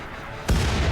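A single loud, close gunshot from a gun turret in RimWorld, an abrupt blast that cuts in and rings out briefly.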